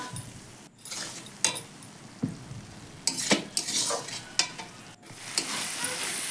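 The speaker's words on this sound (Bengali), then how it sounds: "আমি একটু মশলাটা কষিয়ে নিচ্ছি" Spice paste for a fish roe dopiaza stirring and frying in a pan, with a spatula scraping and clinking against the metal in irregular bursts over a steady sizzle, close and fairly loud, no talking.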